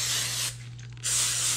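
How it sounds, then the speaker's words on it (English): Cooking spray hisses onto a preheated waffle maker in two steady bursts with a short pause between them, close and clear over a low electrical hum. "the waffle maker is preheated, so I'm just gonna spray"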